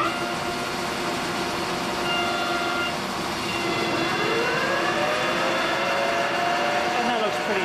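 A lathe with a 3-jaw chuck turns a flywheel held in a fixture at low RPM. It gives a steady, loud mechanical drone with slowly shifting tones, and a voice talks over it.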